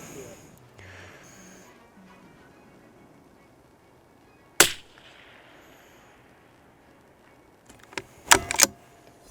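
Rifle shots from a .22 ring out at a distant target, one sharp crack alone followed later by a quick cluster of several shots, with quiet outdoor background and faint speech early on.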